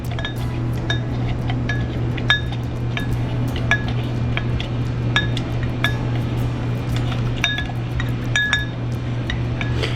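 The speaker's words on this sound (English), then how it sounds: "I usually would do this in a shaker, but since I want y'all to actually see what's happening" Watermelon cubes muddled in a Collins glass at a distillery bar: rapid, repeated glassy clinks and taps over a steady low hum, continuing throughout at close range, with no voices.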